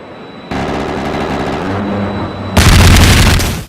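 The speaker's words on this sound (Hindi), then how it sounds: "A-10 जब भी फायर करता है तो पहले आप जमीन पर लगने वाली गोलियों की आवाज सुनेंगे, उसके बाद मशीन गन के फायरिंग की आवाज आप तक पहुँचेगी।" A WWII-era A-10 GAU-8 Avenger 30 mm cannon sequence: a dense, loud rumbling roar of rapid bullet impacts on the ground, then a sudden, harsher, louder burst of the cannon's continuous firing buzz that cuts off abruptly.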